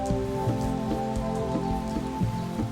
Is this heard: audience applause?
no